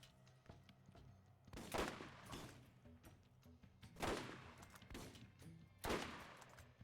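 Gunfire from the video game Borderlands: a few widely spaced, loud shots or bursts roughly two seconds apart, each with a trailing decay, over a low, busy game background with no talking.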